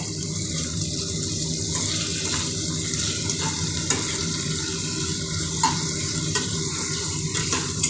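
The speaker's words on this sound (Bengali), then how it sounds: "এবার আমি বালিতে আলু পেঁয়াজটাকে ভেজে নেবো।" Potatoes and onions fry in hot salted oil with a continuous close sizzle and occasional faint clicks of stirring, and nobody speaks.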